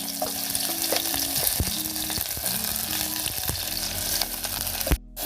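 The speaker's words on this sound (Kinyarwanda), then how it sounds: "Ndabona yahiye, turashyiramo igitunguru." Onion dropped into hot oil sizzles and crackles loudly and continuously, close up, with occasional stirring knocks, until a brief cutoff near the end.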